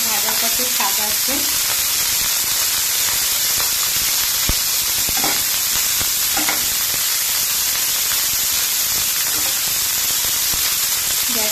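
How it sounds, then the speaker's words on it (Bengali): Cauliflower fries in a pan over a low flame for a vegetarian cauliflower roast, making a loud, continuous, close sizzle with occasional stirring scrapes. "একদম সিমের মধ্যে রেখে ফুলকপিটাকে ভেজে নেব।"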